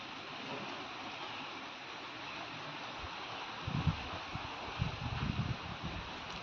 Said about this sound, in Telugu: ఇప్పుడు పెద్ద వర్షం పడిపోతుంది.